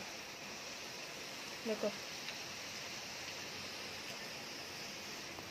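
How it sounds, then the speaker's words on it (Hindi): Heavy monsoon rain pours down in Porbandar, flooding the street below, a constant hissing downpour with one brief spoken word near the start. "तो अभी तो बहुत बारिश आ रही है"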